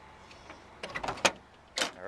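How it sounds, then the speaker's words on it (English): The door of a classic G-body car swings shut, then its freshly replaced latch catches with a sharp metallic clunk, followed by a few lighter rattles in a quiet garage. "I'm going to close the door and see what happens."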